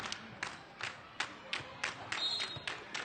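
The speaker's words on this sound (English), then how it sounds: "We've got one of our girls' teams in the house here clapping for Team LVC." A girls' team in the stands at a volleyball match claps in unison for Team LVC, with sharp, evenly spaced claps about every third of a second and faint crowd murmur underneath.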